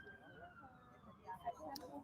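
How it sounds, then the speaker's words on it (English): A police siren wails in the distance outside a courthouse, behind steady traffic and crowd noise, rising faintly over a low background rumble. "You can probably hear the sirens behind me."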